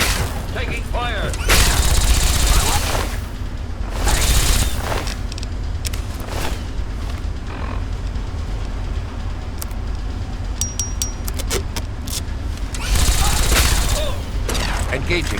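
Gunfire in a Fallout 3 firefight: dense volleys of shots and booms with heavy bursts near the start and end, steady loud battle noise throughout, and shouted voices mixed in.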